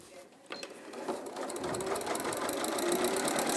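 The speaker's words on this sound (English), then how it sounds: "you can just sew it together on the sewing machine" An Elna sewing machine stitches a seam on a fabric bag, a steady rapid mechanical whirring with a soft tapping rhythm that starts after a short pause and builds evenly, close and clear.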